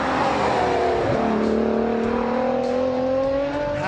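A raspy six-cylinder car engine revs hard and steadily, its pitch dipping and then climbing again. It sounds loud and close, with no voices.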